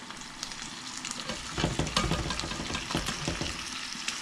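Carnitas keep sizzling and frying in a pan on a stove that has just been switched off, a steady crackle with brief louder bursts as the meat is stirred, close by and without talk.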